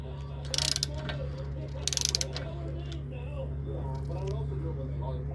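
An 18 mm wrench turning a tie rod nut on a 2008 Chevy Malibu 3.5 L, two short bursts of rapid metallic ratcheting clicks over a steady low hum.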